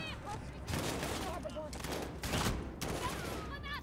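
Rifle fire in the video game Call of Duty Modern Warfare comes in loud, steady bursts that fill the few seconds almost continuously, with faint voices mixed underneath.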